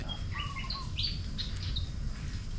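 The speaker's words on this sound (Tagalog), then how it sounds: "enjoy lang natin ang pagkikinig ng mga huni ng mga ibon dito sa aking paligid" Several birds chirp and whistle in short, bright phrases in a garden with many trees, over a low steady background hum, fairly close and clear.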